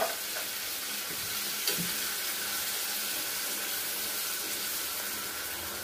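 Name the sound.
stirring baked beans sizzling in a pan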